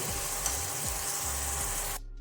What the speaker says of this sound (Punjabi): ਇਹਨੂੰ ਚੰਗੀ ਤਰ੍ਹਾਂ ਆਪਾਂ ਹੋਰ ਭੁੰਨ ਲਵਾਂਗੇ